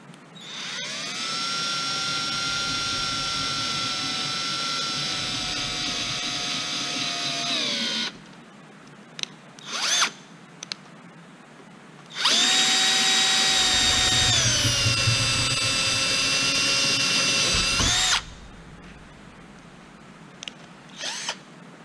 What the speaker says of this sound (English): So I'm going to put that and open up that hole a little bit further, getting closer to the 1/4 inch.